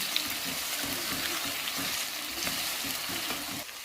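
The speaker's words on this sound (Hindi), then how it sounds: "साबुत ज़ीरा ऐड करेंगे, मिक्स करेंगे" Chicken karahi sizzles steadily in a pan as whole cumin is stirred in, with rhythmic scraping strokes of a spoon running through the constant frying hiss.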